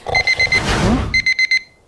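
A bedside alarm clock rings in quick bursts of electronic beeping, with a short gap of other noise between two runs of rhythmic chirps; it is close and fairly loud.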